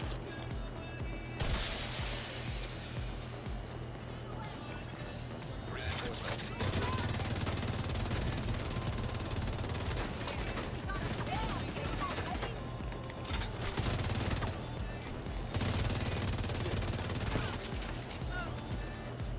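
Sustained automatic gunfire in The Division 2 comes in long, dense, loud bursts across the clip. Someone talks over the shooting at points.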